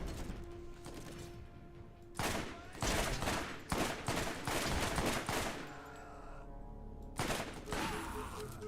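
Assault rifle gunfire in the video game Borderlands, several loud rapid bursts of automatic fire separated by quieter gaps with mechanical game sounds.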